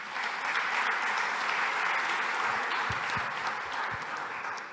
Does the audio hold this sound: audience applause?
yes